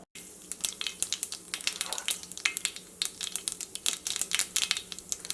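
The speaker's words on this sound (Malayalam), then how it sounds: "അപ്പോൾ കടുക് പൊട്ടിയിട്ടുണ്ട്" Mustard seeds crackle and pop in hot oil for a Kerala-style onion and potato curry, a dense, fast run of sharp snaps over a steady sizzle, close and fairly loud throughout.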